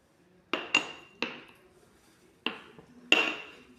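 A metal spoon clinks against a dish in about five sharp, ringing taps spaced unevenly over a few seconds, close and clear in an otherwise quiet room.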